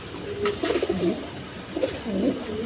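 A pair of pigeons sitting on two eggs give soft, low cooing calls in two short bursts, close by against a quiet background.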